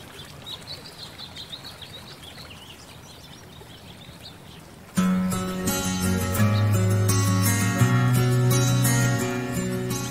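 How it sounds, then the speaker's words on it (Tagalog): Birds chirp faintly at an eagle conservation facility in Davao City, high twittering calls over quiet ambience, then a loud sustained hum of music or machinery abruptly takes over halfway through and masks them. "Unang bubungad sa'yo ang tunog ng mga ibon."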